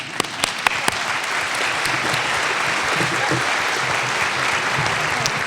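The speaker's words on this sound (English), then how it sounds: "And may you all clap very nicely for yourself." Audience at a conference closing session bursts into steady, full applause, a few sharp early claps rising into a dense wash of clapping, with faint voices mixed underneath.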